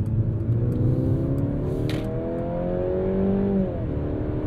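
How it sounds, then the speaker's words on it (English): Steady engine hum with rising and falling harmonic tones, like a car accelerating through gears, continuous and fairly loud with no talking; piped-in engine sound from a 2022 Mercedes-Benz C300 4MATIC sedan in sport mode. "Also get a bit of piped in engine noise if you go into sport or sport plus mode."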